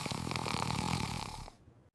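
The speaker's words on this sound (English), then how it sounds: "Oh my God, she is snoring." A tired woman snoring, a slow rasping rumble with fluttering texture that drones on for about a second and a half before stopping abruptly into near silence.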